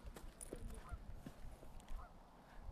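Ducks quacking faintly in the distance, a run of irregular, repeated honking calls over quiet background.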